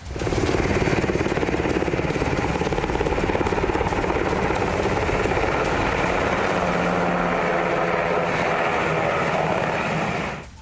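An Apache military attack helicopter thunders close and loud, its rotor chop pulsing steadily and unbroken before easing off at the very end.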